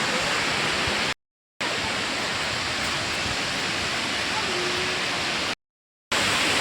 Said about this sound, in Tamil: அருவியில் தண்ணி அதிகமாக வரப்போ இந்த வழியாகவும் தண்ணி பிரிஞ்சு இப்படியே கீழே இறங்கும்